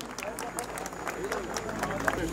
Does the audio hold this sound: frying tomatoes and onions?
no